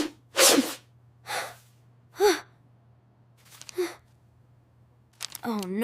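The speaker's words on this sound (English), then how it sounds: "Achoo!" Several sneezes burst out in a quiet room, sharp and loud, separated by pauses and interspersed with sighs and gasping breaths over a faint steady hum.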